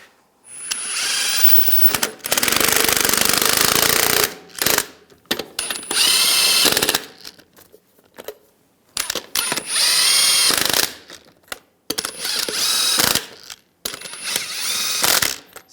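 Bursts of a power tool or impact gun tightening lug nuts on a 2011-2018 Ram 1500 rear wheel, several loud runs of a few seconds each with short pauses between them.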